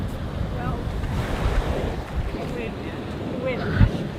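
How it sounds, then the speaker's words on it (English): Ocean waves washing onto the shore as the tide comes in, a continuous rough surging roar mixed with wind buffeting the microphone, loud and close. "And the waves are getting pretty intense."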